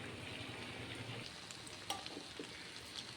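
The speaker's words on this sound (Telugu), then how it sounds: "కొంచెం ఫ్రై చేసుకుందాం రైస్ని కూడా" Rice frying in a pan for chicken biryani, a continuous soft sizzle and crackle with occasional light clicks of stirring, quiet and close.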